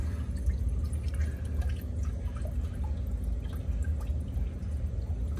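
Engine coolant leaks from a Starquest, giving a steady patter of drips over low continuous rumbling background noise, close and without talk.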